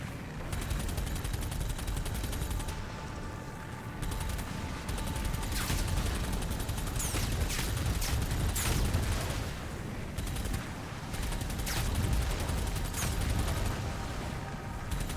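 Dense, continuous gunfire and explosive blasts from the video game DOOM: The Dark Ages, loud rapid bursts layered over a heavy rumbling din with no pauses.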